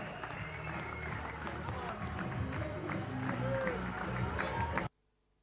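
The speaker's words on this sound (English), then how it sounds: "a big applause for Alex Arroyo" A crowd applauding at a padel final in Espoo as player Alex Arroyo is introduced, dense steady clapping and cheering that holds at an even level, then cuts off abruptly.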